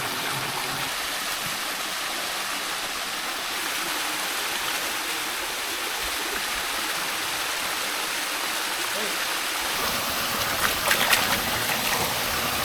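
A forest stream in a quiet valley flows steadily, a loud, even wash of water that fills the whole clip with a slight extra splash near the end.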